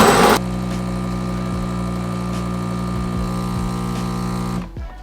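A DeLonghi Magnifica Evo super-automatic espresso machine brews coffee: a short burst, then a steady, loud mechanical pump drone with a tonal hum lasting about four seconds before it cuts off abruptly.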